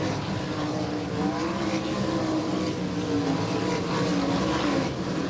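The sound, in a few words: sprint race cars racing at I-96 Speedway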